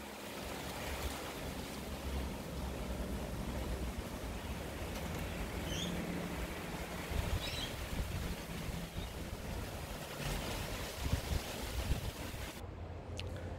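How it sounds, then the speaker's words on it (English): Wind blows steadily through a late-winter garden as spring flowers come up, a continuous broadband rush of gusts and mic buffeting that goes on without pause and with no one talking. "And a lot of wind."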